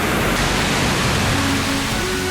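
Rushing water of the Rhine Falls, heard from close below the cascade: a loud, steady, broadband roar that fills the whole stretch without pause.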